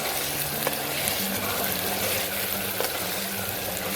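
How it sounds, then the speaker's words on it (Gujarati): Chopped onions sizzle steadily in hot oil with asafoetida stirred in, a dense, even crackle of frying that runs unbroken and close throughout, with no voices. "હવે આપણે ડુંગળીને એકદમ આમાં તેલમાં સાતળી દેવાની છે।"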